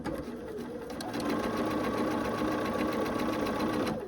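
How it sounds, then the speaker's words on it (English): A sewing machine stitches quilt fabric pieces for an Irish Chain quilt, a close, steady mechanical whir that swells louder after the first second and runs continuously. "Now this way we're sewing it actually with the piece down."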